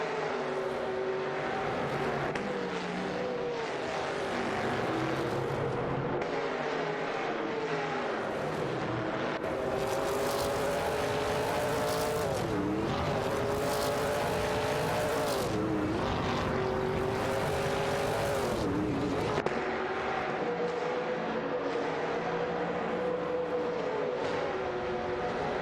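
Race cars in an AI racing video game roar continuously as a loud, steady engine drone, with pitch rising and falling through gear changes and several cars running close together. No voices are heard.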